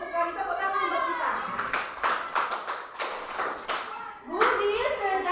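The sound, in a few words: class applauding with hand clapping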